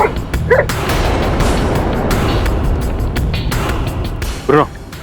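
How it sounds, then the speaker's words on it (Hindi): A dog named Bruno gives a few short barks, two early and one near the end, over a steady wash of background noise. "क्यों भौंक रहा है?"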